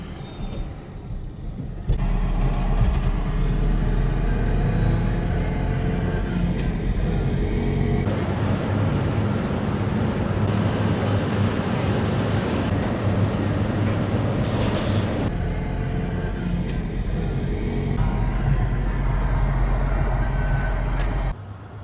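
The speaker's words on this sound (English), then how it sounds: "I'm so excited to be driving the R34 manual." Nissan Skyline R34 with a manual gearbox, heard from inside as a loud, steady engine drone and road rumble that swells and eases over about twenty seconds of driving, with no talking.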